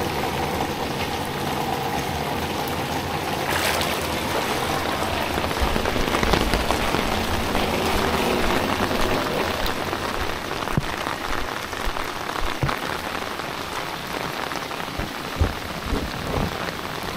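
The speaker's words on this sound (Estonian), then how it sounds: "Suur äikse viht." Heavy thunderstorm rain pours steadily onto a flooded street in Pärnu, a dense continuous roar of water that stays loud from start to finish with no voices.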